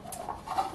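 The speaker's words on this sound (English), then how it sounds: "it sounds like the doves are all out at the moment, so you've got a bit of bird noise in the background" Doves coo softly in the distance, a faint low murmur behind a steady hiss of background noise.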